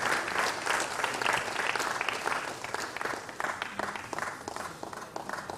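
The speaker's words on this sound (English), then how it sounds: "Shall we sustain the applause for our Vice Chancellor?" Sustained audience applause at a 36th university convocation ceremony, dense and fairly close, with many hands clapping continuously for several seconds before tapering slightly at the end.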